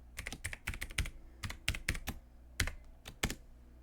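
Computer keyboard keys clatter as a password is typed, quick irregular bursts of crisp taps with short pauses between groups, close and clear with no talking.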